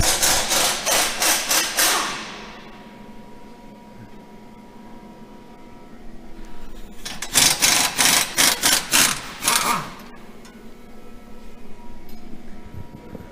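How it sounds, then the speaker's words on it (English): A ratchet socket wrench clicks in quick bursts while loosening the strut-to-knuckle bolts on a Ford Mustang suspension, two rattling runs separated by quieter handling of metal parts. "Now we are ready to undo the strut 2 knuckle bolts."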